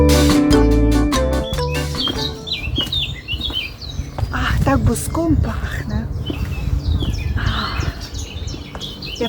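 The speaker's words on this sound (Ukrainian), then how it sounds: "А пташки співають як голосно" Birds chirp and sing loudly outdoors in a green, sunny setting, with bright repeated calls over a voice, and a strong tonal burst sounds at the start.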